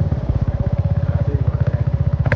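A motorcycle putters along an off-road village track on the way from Butwal to Gulmi, its engine firing in a quick, even rhythm of pulses, close and loud, with a brief clatter at the very end.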